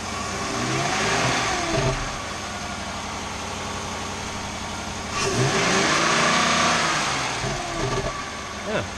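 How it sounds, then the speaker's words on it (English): A Dodge Durango engine fitted with a K&N performance air intake, running steadily with a low rumble and swelling into two revs, a rise and fall near the start and another stronger one later, heard from close by. "Okay, so we're going to start it up now and see if it sounds any different."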